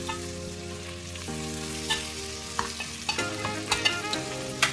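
Monkfish pieces sear gently in butter in a pan over low heat, a soft continuous sizzle with occasional scraping stirs and light clinks, close up, while a steady background hum runs beneath.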